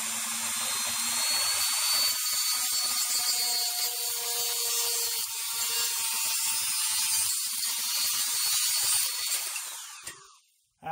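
A Dremel rotary tool grinds steadily through copper clad board, a continuous high-pitched whir with a busy grinding texture lasting around ten seconds before cutting off abruptly at the end.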